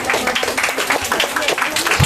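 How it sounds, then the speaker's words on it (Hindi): A gathering at a community programme claps loudly, with distinct overlapping hand claps forming an irregular, energetic burst. "तालियां जोरदार है।"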